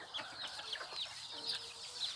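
Bantam chickens kept by a breeder cluck and chirp in short repeated calls, fairly faint and close together, with no talk over them.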